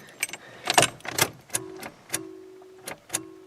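Keys to an old full-frame metric GM car jangle and clink in a series of short, sharp metallic bursts, close by, separated by brief pauses.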